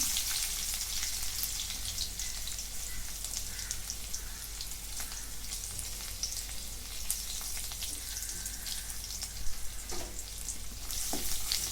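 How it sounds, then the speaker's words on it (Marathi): Crushed garlic and cumin seeds frying in oil, a steady bright hiss of sizzling with scattered pops and crackles, occasional light stirring, and the sizzle swelling louder toward the end. "मी तेल थोडंसं वतलं जिरे टाकून घेतले आता याच्यामध्ये ठेसलेलं लसूण"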